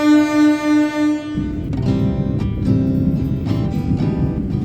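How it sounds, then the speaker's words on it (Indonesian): A Serayu passenger train departs Kroya station, starting with a few rhythmic horn blasts that give way to rumbling, clattering wheels and carriages rolling steadily nearby. "kereta api Serayu diberangkatkan dari stasiun Kroya"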